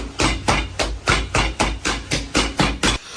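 A knife chops off a head on a cutting board in a kitchen, with about nine heavy, evenly spaced thuds in quick succession, loud and close, with no talking.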